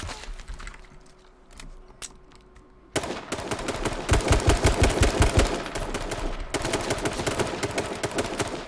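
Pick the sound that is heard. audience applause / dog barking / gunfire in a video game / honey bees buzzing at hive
gunfire in a video game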